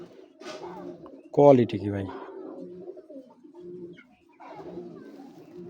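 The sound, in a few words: Sapchila pigeons cooing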